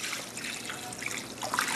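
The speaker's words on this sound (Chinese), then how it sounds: "我们再用一些水把它洗一洗" Water trickling and splashing over blanched pork ribs as they are rinsed to clear away scum, a steady close running-water sound with brief surges, no talking.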